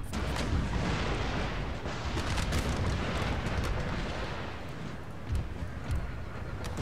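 Cannon artillery fire on a battlefield in Empire: Total War with Darthmod, Poland-Lithuania forces: dense, continuous booming volleys with sharp cracks, rolling over one another without pause.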